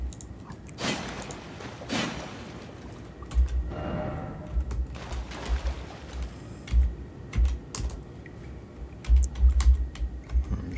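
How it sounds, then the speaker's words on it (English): Computer keyboard keys clack in scattered presses and short flurries during a session of Elden Ring, close and fairly quiet, with irregular gaps between the taps. "Trying different keys."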